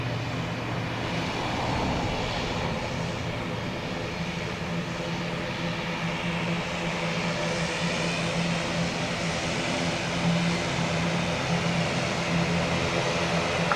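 ATR turboprop aircraft rolling on a taxiway at Dublin Airport, a loud continuous propeller drone with steady tonal hum that stays constant and close throughout.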